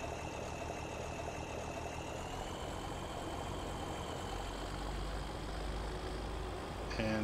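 Steady low drone of a tractor engine idling in Farming Simulator 17, even and unbroken for several seconds with a faint whine above it, ending in a small clunk.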